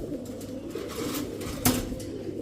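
Racing pigeons, including white grizzle racers, give a soft, low coo close by in a quiet room, with a brief louder rustle partway through and faint background clatter.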